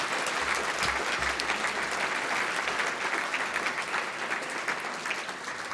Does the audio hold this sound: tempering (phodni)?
no